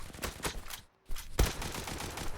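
Video game gunfire comes in rapid bursts of shots, cuts out briefly, then resumes as a dense, steady fusillade.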